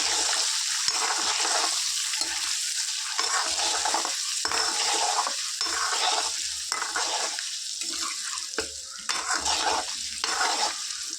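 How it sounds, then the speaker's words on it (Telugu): Masala with turmeric fries in a pan for an egg masala curry, giving a steady, close sizzle with light stirring scrapes running through the whole stretch. "దీన్ని ఇలాగే చక్కగా ఫ్రై చేసుకున్నాం"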